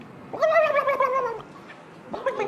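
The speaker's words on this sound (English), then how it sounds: "Looks like a rather violent bird." A loud, harsh bird call like a turkey gobble sounds twice, a long warbling cry and then a shorter one, close and with no talking.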